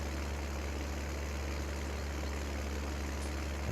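A tractor engine labouring under a heavy wood chipper in Farming Simulator 19, a low, steady drone that holds at one pitch throughout with no voices over it.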